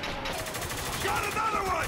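Rapid gunfire bursts in the video game Spec Ops: The Line, a dense rattling fusillade of automatic weapons under shouted combat chatter.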